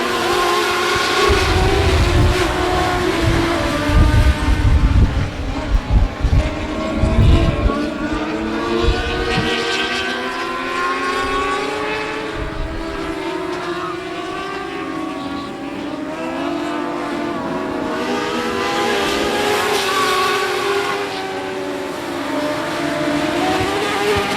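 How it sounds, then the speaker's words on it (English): Dwarf race cars on the I-37 Speedway buzz past one after another, high engine whines rising and falling as they approach and recede, with loud close passes early and a droning pack continuing afterward. "Here come the dwarf cars buzzing right at you."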